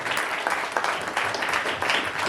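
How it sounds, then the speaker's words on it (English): Steady applause from a comedy show audience at the Elysian Theater in Los Angeles, a dense wash of many hands clapping continuously without a break. "Clap it up for Ryan."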